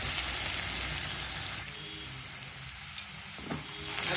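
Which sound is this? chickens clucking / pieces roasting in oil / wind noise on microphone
pieces roasting in oil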